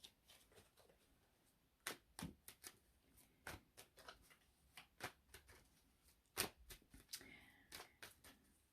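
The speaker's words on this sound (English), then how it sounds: "Let me get some more cards out on the table here." Tarot cards are laid out one by one on a table, each landing as a crisp, close slap or tap at an irregular pace in an otherwise quiet room.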